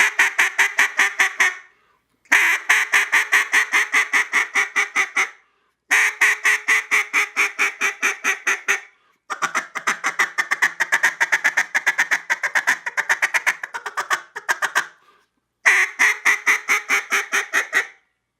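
Mondo duck call blown in repeated quacking sequences, five bursts of rapid evenly spaced quacks separated by short pauses, loud and close with no voices.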